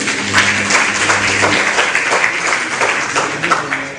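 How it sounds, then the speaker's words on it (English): An audience at a political assembly in Kano breaks into applause, a loud steady patter of many hands, with a voice briefly audible beneath the clapping. "another round of applause"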